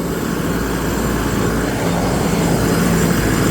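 A 2025 Mahindra 4550 tractor engine runs with a steady low rumble, loud and continuous throughout, with no voices.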